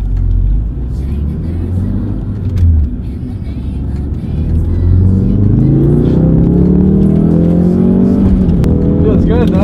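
A Ford Focus RS on winter tires laps a racetrack in track mode with sports suspension, its engine droning loud and close from inside the cabin, rising and revving through the gears as voices talk over it.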